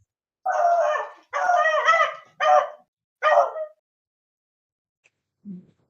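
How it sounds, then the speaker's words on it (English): Dog barking close by: four loud, rough barks in a quick uneven series, then silence and a faint short whimper at the end. "It's a lot of barking."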